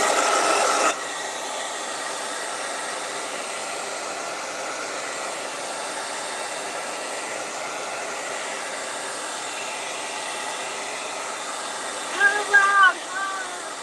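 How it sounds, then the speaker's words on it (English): Hair dryer blow-drying paint on a Dr. Seuss-style hat, a steady close whooshing roar running nearly the whole time, louder at the very start, with a brief voice near the end. "we're actually going to just give it all a quick blow dry again"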